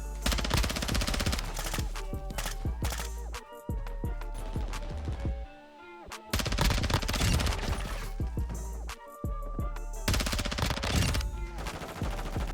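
Rapid AR gunfire in the video game Warzone 2 (Modern Warfare 2), loud continuous automatic bursts broken by brief pauses, with game music underneath.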